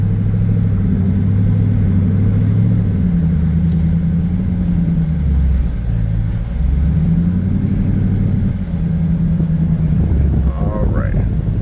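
A Dodge Durango SRT with all-wheel drive sets off on a drive, its engine droning with a deep, continuous cabin rumble that rises and falls in pitch as it accelerates and shifts, loud throughout.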